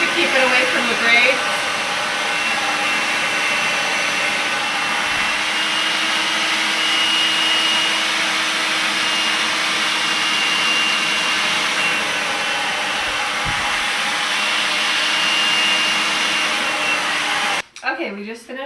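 A hair dryer blows steadily and loudly throughout while natural hair is styled for a French braid, a constant close airy roar that cuts off abruptly near the end.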